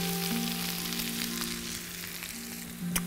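Cumin seeds stir-frying in a pan for a dhaba-style egg masala, a continuous close sizzle and crackle with a sharp knock near the end.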